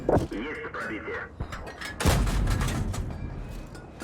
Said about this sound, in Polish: parę strzałów na ślepo